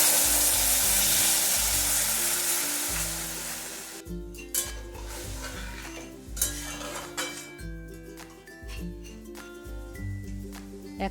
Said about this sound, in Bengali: মৌরিটাও ভালোভাবে ভেজে নিচ্ছি। এরপর দিয়ে দিচ্ছি তেঁতুলের পাল্পটা